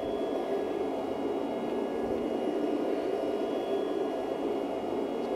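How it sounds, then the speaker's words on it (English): Steady white noise plays from a baby soother, a continuous even hiss with no breaks or change in level, fairly quiet and heard alone. "So the first one is just white noise."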